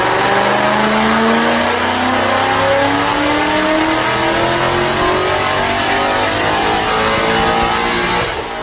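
2014 Ford Mustang with a Paxton Novi 2200 supercharger (Brenspeed Stage 3) making a dyno pull, a loud continuous engine roar climbing steadily in pitch through the revs with supercharger whine on top, heard up close without talk.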